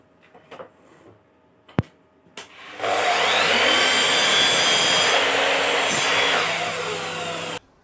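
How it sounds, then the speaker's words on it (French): A miter saw cuts wooden crosspieces to length for a garden privacy screen. A few faint knocks and a sharp tap come first, then the blade spins up into a loud, steady whine that runs for about five seconds before stopping abruptly. "pour les couper à longueur, vous voyez que j'utilise ma scie à onglet"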